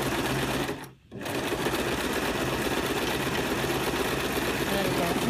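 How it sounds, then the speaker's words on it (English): A sewing machine runs a slow, wide satin stitch in a steady whir that keeps on without a break, apart from one short pause near the start. "There we go, nice slow stitch."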